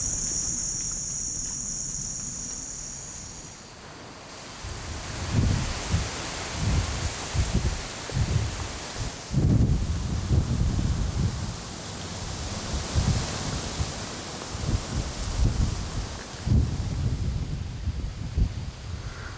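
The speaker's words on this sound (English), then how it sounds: "now it's gotten windy" Steady outdoor wind gusting beside a soybean field after a rainstorm, a broad rushing noise that swells and buffets in bursts, with insects chirping faintly early on.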